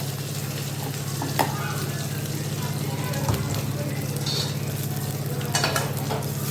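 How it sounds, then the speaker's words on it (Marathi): Red chilies with curry leaves frying and being stirred in a pan, a dense steady sizzle with scattered scraping knocks from the spoon, heard close with a low hum beneath. "परतून व्यवस्थित हलवून घेऊया आपण याला"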